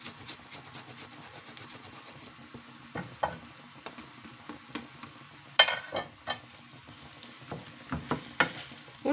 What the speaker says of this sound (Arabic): ونخليه يتشحر معايا